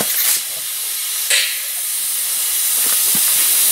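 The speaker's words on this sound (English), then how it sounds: "hook up the airline, turn on the valve, and just let the thing spin all the way up to full revolutions for you" Small home-built Tesla turbine spinning up on compressed air from an airline, a strong continuous airy hiss with brief louder bursts as the valve opens, close and loud.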